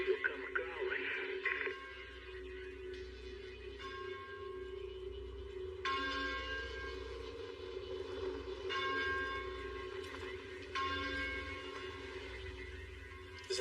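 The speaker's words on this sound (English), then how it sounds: "Is that a church bell?" A church bell tolls at a distance in repeated slow strikes, each ringing out with a lingering tone over a low steady hum, with faint talk underneath.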